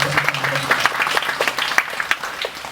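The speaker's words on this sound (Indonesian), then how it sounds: "Yang setuju tepuk tangan sekali lagi" Applause from a church congregation in Ambon, a short burst of uneven, close clapping with scattered louder claps and a few voices.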